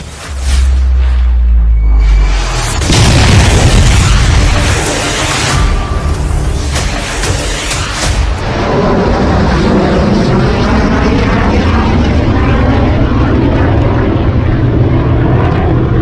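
A BrahMos missile test launch erupts with a sudden loud roar that builds into a sustained, powerful rushing thunder and then settles into a long, steady rumbling wash.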